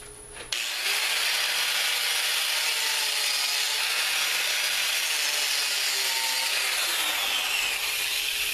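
A wood lathe cuts the inside of a dried cherry bowl with a loud, steady, continuous scraping hiss that begins abruptly after a short quiet start and holds on close and unbroken.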